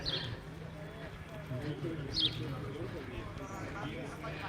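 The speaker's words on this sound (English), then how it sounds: "I don't know if you can hear the birds here all cheeping." Small birds cheep in brief, high bursts from a short distance, under a steady outdoor hum and nearby talk in the resort of Cala Millor, Mallorca.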